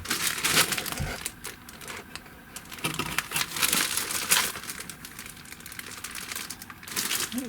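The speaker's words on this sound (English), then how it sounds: "It looks like plastic bags." Plastic bags from a fume extractor kit crinkle and rustle as they are handled up close, a continuous dry crackling with irregular bursts and no voices.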